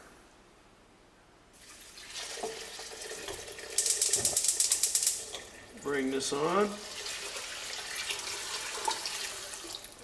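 Water pours from a tap into a pot of beans on a stovetop, a quiet splashing burst followed by further running, with a person speaking briefly over it.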